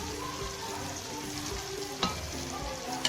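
Masala for chicken kofta curry fries in a pan with a steady sizzle while a spoon stirs it, giving a sharp scrape partway through and a click at the end.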